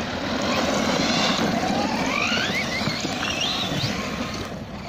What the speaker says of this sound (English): This is on the 2000kV motor. It should run a little bit more aggressively with a higher level of torque.